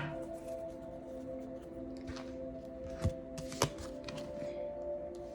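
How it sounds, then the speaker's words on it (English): Tarot cards are shuffled indoors, with soft riffling and shuffling sounds close by, two sharper taps in the middle, and a steady low hum underneath. "I hope when y'all hear these cards shuffle on the other end"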